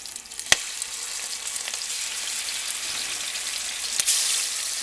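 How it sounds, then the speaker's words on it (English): Oil sizzles and crackles steadily in a frying pan on a stove while teriyaki chicken is being cooked, a continuous close hiss with a few sharp pops and no talking. "we're gonna start putting in the frying pan"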